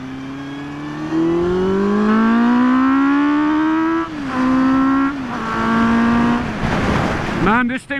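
A 2009 Honda CB400 Super Four with an aftermarket exhaust revs hard while riding on the highway, its engine tone climbing steadily through the gears, loud and close, with brief dips at shifts.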